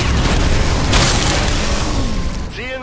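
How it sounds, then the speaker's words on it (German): A gunshot rings out in the tactical video game XCOM 2 as a loud, booming blast with a long rumbling tail that fades over a couple of seconds, then a brief rising tone. "Ziel neutralisiert. Mit einem wunderschönen Schuss."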